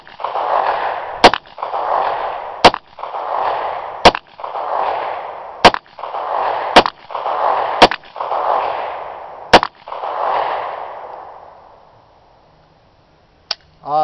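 Bersa Thunder 9 pistol firing outdoors, about eight sharp loud shots at an even pace roughly one and a half seconds apart, each followed by a rolling echo, and one more crack near the end.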